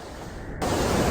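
Ocean waves at Kata Beach in Phuket on a cloudy day, heard as a steady broadband wash of surf that swells suddenly louder about halfway through and stays strong, with no voices.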